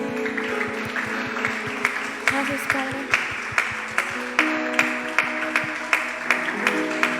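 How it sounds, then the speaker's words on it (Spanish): A church congregation gives a strong round of applause, clapping spreading through the room over a soft musical backdrop, while a voice briefly speaks over it. "Dale un fuerte aplauso, joven, a tu Señor."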